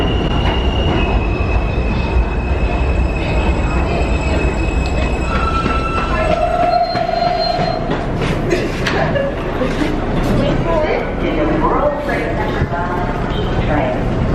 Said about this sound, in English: Get on the New York train.